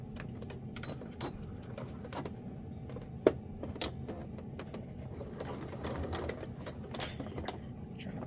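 Sewing machine running a quarter-inch seam on a lounge wear top, a steady close mechanical whir with rapid needle clatter and a few sharp clicks, continuous throughout with no talking.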